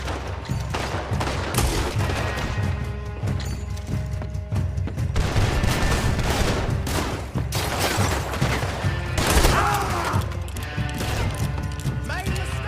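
Gunfire rings out in Red Dead Redemption 2 during an upstairs shootout: repeated sharp rifle and pistol shots crack in rapid, irregular bursts, loud and close, mixed with crashes and shouting voices.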